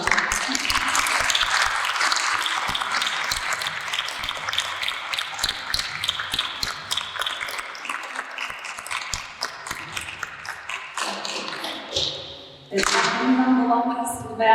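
Sustained audience applause at a school talk for families, dense and steady, fading briefly near the end before a burst of cheering or whistling returns.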